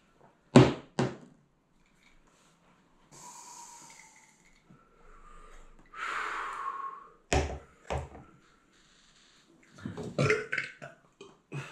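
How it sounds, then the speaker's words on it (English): A person burps after drinking a shot of limoncello, with sharp loud belches at the start, another midway and a cluster near the end, separated by quieter breathing and hissing exhalations. "Even my burps burned."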